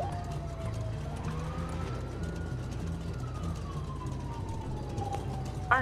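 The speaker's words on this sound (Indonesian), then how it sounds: "Daerah karnaval masih ada sirine ya," Video game police sirens in GTA V wail, rising and falling in the distance over a low rhythmic background hum, steady throughout with a faint click at the end.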